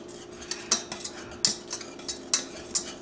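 A metal whisk stirring a roux in a pan to work out lumps, giving a series of sharp clinks and scrapes against the pan at an irregular rhythm, close and fairly loud, with no voices.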